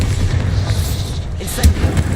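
A Bombarda spell explodes in the Hogwarts Legacy video game: a loud, dense, rumbling blast fills the moment, with a sharper burst of impact near the end.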